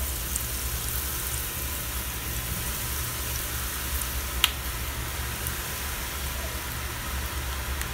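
Murukku dough is pressed into hot oil in a pan and fries with a continuous, even hiss and bubbling, with one faint click partway through.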